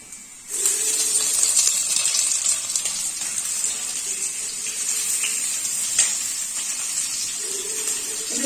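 Chopped onion hits a hot pan for a sweet potato milk curry, bursting into a steady, close sizzle and hiss that starts suddenly and holds evenly throughout, with no talking.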